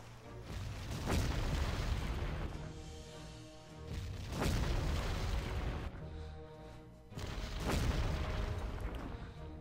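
Artillery fire in the Panzer Corps war game booms in three heavy, rumbling blasts spaced a few seconds apart, each with a long rolling tail.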